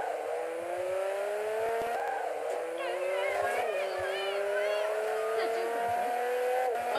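A car in the video game Garry's Mod drives and spins around, its engine holding a steady droning tone with rising and falling pitch sweeps and tire squeals throughout.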